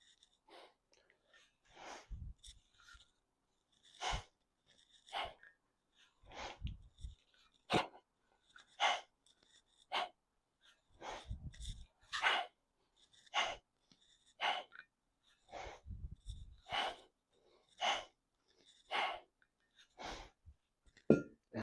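Rhythmic, forceful breaths and exhalations during kettlebell clean and press reps, close and fairly faint, repeating in steady bursts with quiet gaps between.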